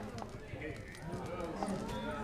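Hooves of a horse clip-clop at a quick galloping pace in The Witcher 3: Hearts of Stone, steady and moderately loud beneath ongoing talk and game ambience.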